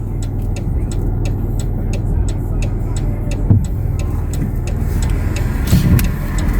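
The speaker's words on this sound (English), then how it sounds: "car's coming up fast" A car comes up fast along the road with a constant engine and tyre rumble, swelling slightly toward the end, heard close by.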